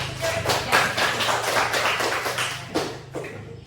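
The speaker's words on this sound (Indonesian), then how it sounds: "Tepuk tangan dulu." Students in a classroom clap in a steady run of close handclaps lasting a few seconds, with some voices underneath.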